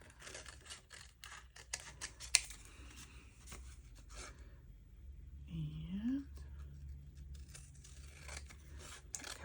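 Scissors snip and trim paper for a junk journal tag, a few quiet close cuts between soft rustling and low murmured talk.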